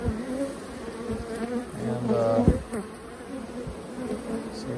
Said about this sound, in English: We got a good number of bees here.